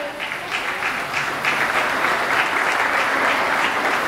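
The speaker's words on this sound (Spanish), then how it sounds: "Démosle un fuerte aplauso" Loud applause from an audience at a Guatemalan traditional costume show as a model appears in the dress of Cobán, a thick, steady roar of clapping that swells slightly after the first second and holds.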